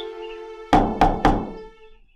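Three firm knocks on a door, evenly spaced and close, cutting through a sustained synthetic musical tone that fades afterward.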